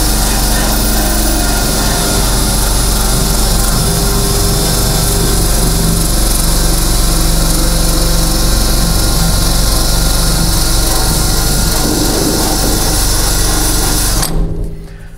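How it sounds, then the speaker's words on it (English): Wire wheel grinding spot welds on the sheet metal of a 1960-66 Chevy or GMC truck cab, a loud, steady, high-pitched whirring scrub held close for about fourteen seconds before it cuts off. "You can take a wire wheel."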